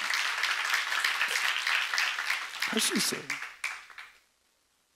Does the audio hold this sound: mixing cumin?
no